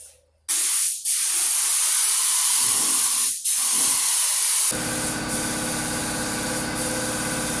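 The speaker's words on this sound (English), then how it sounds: "I've got clear coat sitting on hand from other projects. Paint going down." Clear coat sprayed from a spray gun onto sheet metal during a rust repair: a loud, close, continuous hiss in long bursts with brief pauses, then a steadier mechanical hum and hiss near the end.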